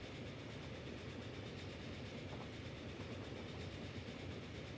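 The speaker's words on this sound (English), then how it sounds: "Try this new train out." A train runs in the railway simulation game Transport Fever, making a steady, continuous rolling rumble with faint rhythmic clatter. The sound is even throughout and no voices are heard.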